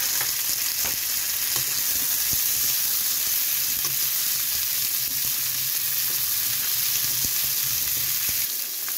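Tomato goes into a hot pan of shrimp, giving a steady, close, continuous sizzle with occasional soft stirring clicks throughout, and no voices.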